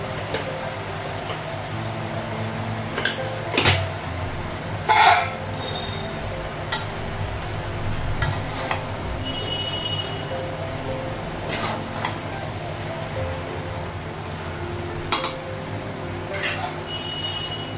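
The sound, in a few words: stirring and covering food in a cooking pot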